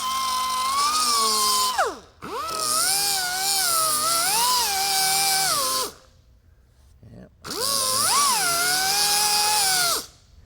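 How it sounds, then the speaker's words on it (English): Power grinder running across body filler bumps on a 1969 Dodge Charger panel, a loud high whine in three bursts that rises and dips in pitch as the disc bites, with short silences between passes. "I'm going to take this grinder and run right across the top of those little bumps"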